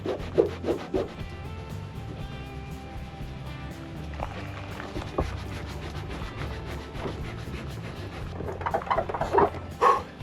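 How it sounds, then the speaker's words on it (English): Scrubbing spray paint off an old Chrysler that sat 22 years, a continuous rhythmic rubbing and scraping with repeated strokes over a low background hum, fairly close, no one talking. "How's your last few hours of scrubbing off paint been?"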